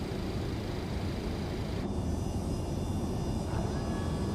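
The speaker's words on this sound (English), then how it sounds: "Flaps 40 coming in." Flaps on a Boeing 727 extend to 40 during an approach in Microsoft Flight Simulator 2024. A steady engine and airflow roar fills the cockpit, and its tone shifts noticeably partway through.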